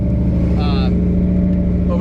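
A 430 HP 400 small-block V8 in an Orange County Hot Rods build idles loud and close with a steady, lumpy rumble, then blips briefly and settles back.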